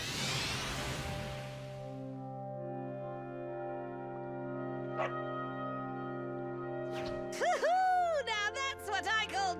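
Dog barking and yipping in Dragon Quest XI, a few short barks and whines near the end after a stretch of sustained musical tones, close and fairly loud.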